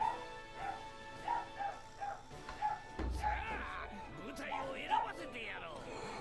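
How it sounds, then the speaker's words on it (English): Dog barks from the video game Sakigake!! Otokojuku come as a run of short, evenly spaced yips, followed by a louder, noisier stretch of game sound effects, with a person talking over the top. "Who brought this fucking dog?"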